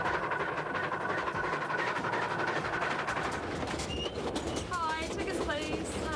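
Steady rumble of the Kingston Flyer train rolling along rails, a continuous broadband roar with faint high squeals near the end and soft voices under it.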